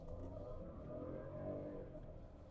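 A Hyundai Venue with a 1-liter turbo petrol engine of about 120 bhp accelerates at full throttle, a steady droning engine note heard from inside the car.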